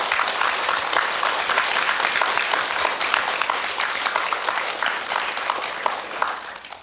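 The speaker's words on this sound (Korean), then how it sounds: "아름다운 시를 쓰신 이혜인 수녀님께 여러분 박수 한번" An audience at a lecture breaks into steady applause, a thick wash of many hands clapping together at an even level, easing off slightly near the end.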